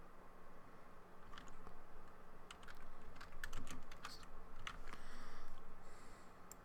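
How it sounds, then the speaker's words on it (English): Rapid typing on a computer keyboard, a quiet, close patter of key clicks in uneven bursts over a soft background hum. "And I'm going to type in Bower Components."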